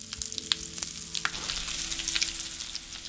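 Pop Rocks mixed into runny, soup-like slime fizz and crackle up close, with scattered sharper pops over a continuous sizzling hiss and a faint background hum; nobody speaks.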